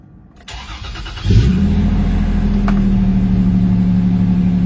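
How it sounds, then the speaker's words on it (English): A car engine is cranked and catches, settling into a steady, loud idle rumble close by; a few preliminary clicks and a brief starter whir come before the engine fires. "start the engine and shift into every gear in our transmission"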